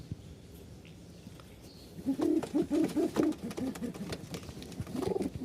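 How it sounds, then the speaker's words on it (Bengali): Pigeons coo in soft, repeated low bursts, close by, starting after a quiet stretch and continuing in a rhythmic series over faint background noise. "কবুতর একবার বের হয়ে যায় তাহলে তো আবার ঝামেলা"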